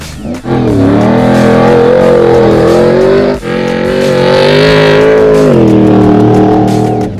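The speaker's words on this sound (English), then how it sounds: "a few other guys testing this new Mickey Thompson Trophy truck for 2012-13" A Mickey Thompson Stadium Super Truck trophy truck engine revs hard and close, its pitch rising and dropping through several gear changes with brief lifts between bursts, loud and alone.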